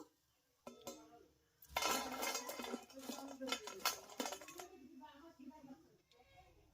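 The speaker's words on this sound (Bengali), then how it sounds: "এবার আমি পিঠাগুলোকে সব তুলে নিচ্ছি এক এক করে। তেলটাকে খুব ভালোভাবে ঝরিয়ে নেব।" Fried chira (flattened rice) pitha lifted one by one from hot oil: scattered metallic clinks and scrapes of a utensil against a pan, fairly quiet, with some speech nearby.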